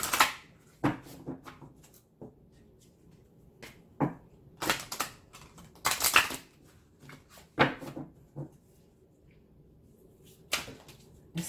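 Oracle cards being shuffled by hand for a twin flame reading, a quiet room with scattered soft riffles and slaps in irregular bursts, fairly close and faint, with no talking over it.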